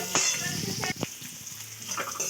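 Chopped vegetables fry in a pan as the first step of a noodle dish. A soft sizzle runs throughout, broken by a few sharp clinks and scrapes of stirring.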